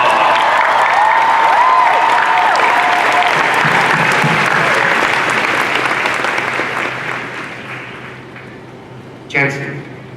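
A large San Diego Comic Con 2013 crowd at the Supernatural panel applauds the show's writing staff, loud, dense clapping and cheering that gradually dies down, with a brief voice near the end.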